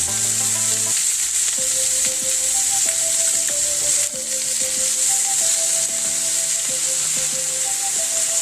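Chicken adobo sizzling loudly and steadily in a pan as vinegar goes in, a continuous close frying hiss with faint stirring knocks, no voices.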